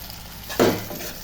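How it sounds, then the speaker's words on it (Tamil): A large ground tomato paste poured into a hot pan while cooking ridge gourd thokku, giving one sudden close sizzling splash that fades away over about half a second. "அரைச்சி வச்சுருக்க ஒரு பெரிய சைஸ் தக்காளியை இப்போ ஊற்றுங்க"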